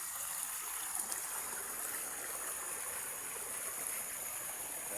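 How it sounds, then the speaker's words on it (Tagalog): Steady rushing water of a clear, wide creek at Tab-an, a continuous hiss and gurgle filling the background, even in level with no voices. "Napakalinis at napakaganda ng sapa dito sa Taban"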